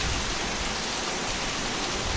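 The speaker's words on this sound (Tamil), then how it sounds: "சஸ்மிதா பாருங்க, மழை பெஞ்சாவே வெளியே வந்து நின்றுட்டு." Heavy rain falls outside a house in a dense, constant hiss with no pauses, close and loud, and no voices.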